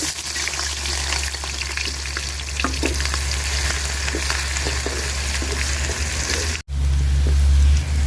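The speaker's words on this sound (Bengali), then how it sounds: "পেঁয়াজটা লাল লাল করে ভাজা নিছি" Onion and chili frying in oil left over from frying small fish, a dense continuous crackling sizzle with scattered pops, loud and close, running steadily throughout.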